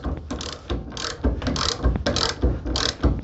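A ratchet turns a 32 mm socket on the wheel hub bearing nut of a Saris KL 75 car trailer with a Knott axle, giving repeated close, loud clicking strokes in an uneven rhythm.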